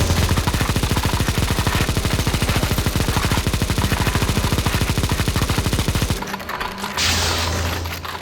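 Rapid sustained automatic gunfire in the video game CSGO Zombie Escape as players shoot a boss, loud dense rattling for about six seconds, then breaking off into a mechanical reload-like clatter.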